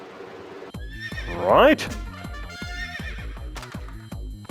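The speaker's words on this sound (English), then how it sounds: "Oh, and then the horse is freaking out." In a PSP video game, a horse gives one loud, shrill whinny over a steady run of hoof clip-clops, with a voice speaking briefly.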